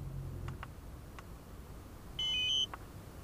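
A DJI Spark drone remote controller powers on with a quick, clear pair of electronic beeps, faint ticking before it against a quiet room background.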